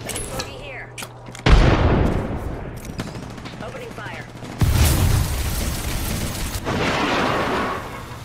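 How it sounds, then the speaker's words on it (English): Video game gunfire rattles out in bursts, with a loud close volley near the start, another heavy barrage midway and sustained shooting toward the end, layered with blasts and background game noise. "Opening fire."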